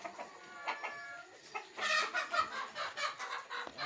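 A rooster kept among pigeons at a home loft clucks in a rapid, close series of squawky calls, getting louder and busier toward the end, with no talk over it.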